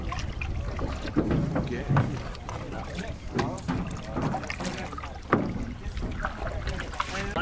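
Paddles dip and splash as a group canoe moves across open water at a summer camp, with soft irregular strokes and water sounds beneath scattered talk.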